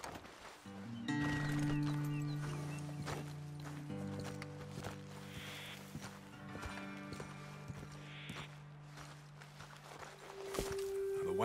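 Horses walk along a road in Red Dead Redemption 2, their hooves giving a steady, moderately near clip-clop under sustained musical tones, with a possible brief whinny.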